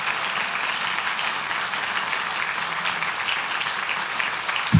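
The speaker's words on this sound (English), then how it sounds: "So let's give them a big round of applause." An audience at a city council meeting gives a round of applause to honoured guests, steady, moderately loud clapping from many hands throughout with no talking.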